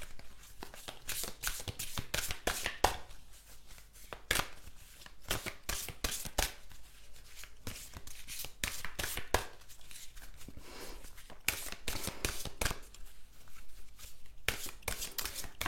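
A deck of tarot cards is shuffled by hand close up, with repeated crisp riffling bursts and flutters in an irregular rhythm throughout, with no talking.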